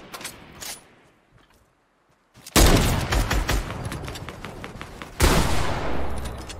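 Gunfire in a custom-game shooter match comes as sparse shots at first, then a brief lull, then a loud sustained burst of rapid automatic fire with a second surge near the end.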